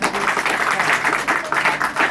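Group applause at an environmental awareness quiz event in a village, a brisk uneven clapping from a small crowd, lasting about two seconds and fairly close.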